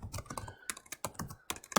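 Fingers tap quickly on a computer keyboard while entering text into Excel, a short run of soft, close clicks in an uneven rhythm.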